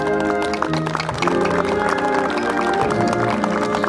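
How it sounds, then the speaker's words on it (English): Audience applause for the Ste. Genevieve municipal band at an evening concert, dense clapping sustained at fairly loud volume with some crowd voices mixed in. "Let's give them all a round of applause, please."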